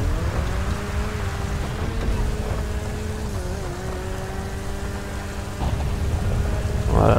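Rain hisses steadily while an Issi Classic car is driven in a GTA game, its engine droning and rising and falling in pitch beneath the constant wet patter.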